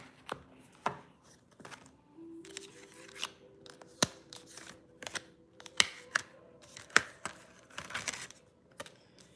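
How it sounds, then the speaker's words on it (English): Brand new crime cards shuffled and handled, a run of crisp irregular slaps and snaps at close range, with a faint background hum. "the crime cards are just brand new, so bear with me when it comes to shuffling them and stuff"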